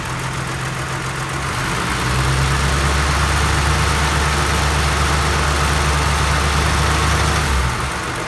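A vintage Mopar car engine idles steadily up close, a constant low hum and rumble that grows slightly heavier partway through, likely as the high beams add load, then drops back near the end.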